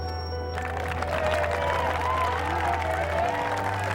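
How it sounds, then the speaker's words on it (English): A crowd lining a laneway at Spruce Meadows applauds steadily for the Queen's visit, a broad wash of clapping with some cheering mixed in, over a low constant hum. "A warm round of applause from the crowd."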